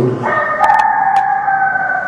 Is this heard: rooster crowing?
yes